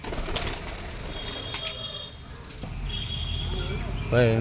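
Pigeons cooing and wings flapping amid busy outdoor background noise, with a few sharper chirps and a brief close rustle near the end.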